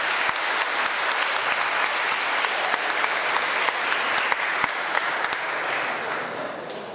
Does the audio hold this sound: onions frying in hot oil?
no